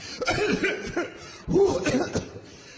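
A few short, sharp coughs in two bursts, close and fairly loud, with a breathy, throaty quality, mimicking a summer cold during a stand-up comedy set.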